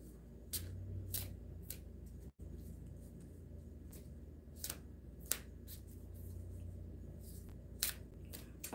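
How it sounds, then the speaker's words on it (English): A deck of playing cards is shuffled close by, with repeated quick riffling bursts and flicks over a low steady rumble, fairly quiet and with no talking. "I shall shuffle us some cards."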